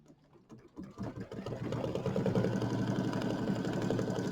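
A sewing machine runs steadily as it stitches white thread across a small quilt, its fast mechanical whir building after a brief start and holding a continuous, close, even rhythm with no talking.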